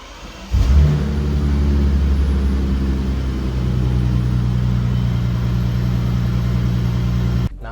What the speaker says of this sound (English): How did you like that cold start?